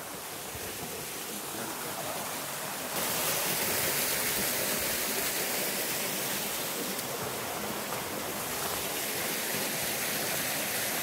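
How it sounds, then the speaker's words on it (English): A waterfall in Hoosier National Forest roars as a broad, loud, unbroken rush of water, steady throughout with a swell in volume partway through as it grows nearer. "The waterfall is up ahead."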